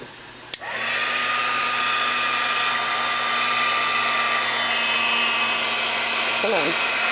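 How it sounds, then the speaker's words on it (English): A heat tool switches on with a click and blows a steady, close whirring hiss while drying alcohol ink refill on paper for several seconds. "now I'm going to use the heat tool and heat this up"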